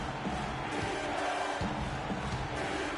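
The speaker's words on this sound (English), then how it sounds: "how about the intensity and focus of the crowd here?" A dense, steady roar of a video game basketball arena crowd in NBA 2K16, loud and continuous with swelling cheers, heard from amid the stands.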